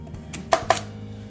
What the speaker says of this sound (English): This part I'll just cut in half, and then this part I will cut into quarters.